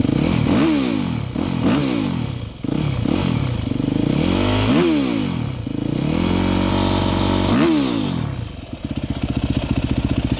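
A 2009 Yamaha YZ250F four-stroke dirt bike engine is revved repeatedly from idle, loud close-up throttle blips rising and falling, then settling into a rapid, even idle putter at the end, with no talking.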